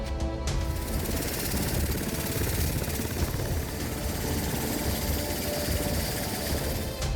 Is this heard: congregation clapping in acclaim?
no